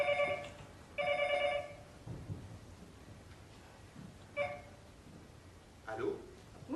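Telephone rings in a quiet room, several separate ring bursts with gaps between them, moderately loud and close, with faint background noise and no talk over them.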